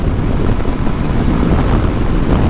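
Heavy roaring wind buffeting the microphone on a Kawasaki KLR 650 motorcycle cruising at about 75 mph, loud, constant and dense, with no voice.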